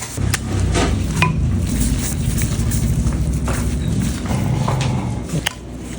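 Hands with a little oil on them work a meatball mixture, making a continuous close-up squishing and slapping with faint clinks of a bowl.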